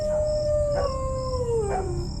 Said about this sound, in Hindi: सिर्फ दूर से कुत्तों की रोने की आवाज